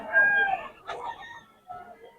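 Chickens cluck in short bursts, a couple of harsh, bright calls close by with brief pauses between them.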